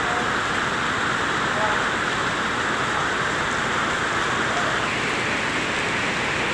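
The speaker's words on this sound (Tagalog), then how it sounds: "lumalakas pa yung ulan" Heavy typhoon rain pours steadily in Santa Mesa, Manila, a dense, constant hiss of downpour with no break, loud and close throughout.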